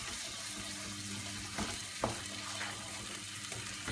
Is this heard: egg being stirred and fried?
yes